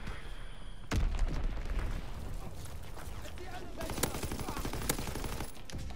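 A Fritz X guided bomb explodes in Call of Duty WWII with one heavy boom, then a rumble and scattered gunfire and cracks, while someone talks over it.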